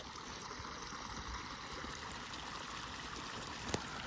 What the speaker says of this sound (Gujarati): અટાણે આ જો પાણી ચાલુ જ છે ફૂલ પાવર આવે છે